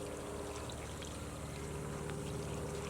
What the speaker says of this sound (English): I'm going to pour out the excess.